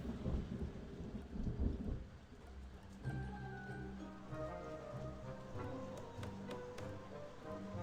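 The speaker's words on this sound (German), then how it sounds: "Regnet." Rain and thunder from the video game Avadon 3 play faintly: a low rumbling thunder roll gives way to steady rain patter with scattered drips and light taps.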